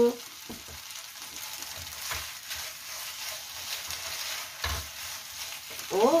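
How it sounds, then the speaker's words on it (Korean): Canned-ham risotto made with leftover rice, milk and kelp stock is stirred over medium-high heat, giving a constant bubbling sizzle with periodic soft scraping strokes of a spoon, close and without talk. "중강불로 왔다 갔다 하면서 익혀주세요"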